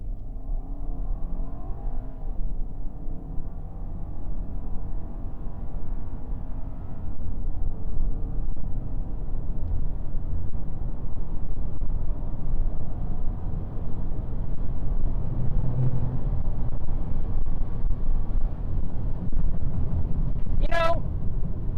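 A base-model American Volkswagen Passat with 170 horsepower accelerates hard from 0 to 60 mph. The steady engine drone builds under road noise while someone talks inside the cabin, and a short chime sounds near the end.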